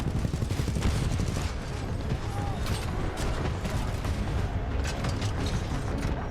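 Steady gunfire and mechanical weapon clatter from a Titanfall 2 battle against a hostile Titan, dense and continuous throughout with booming hits mixed in, while a voice talks over it.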